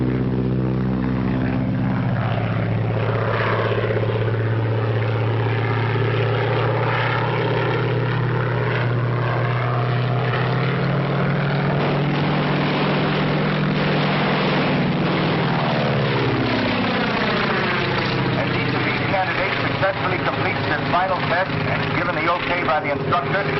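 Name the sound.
1939 propeller aircraft approaching the field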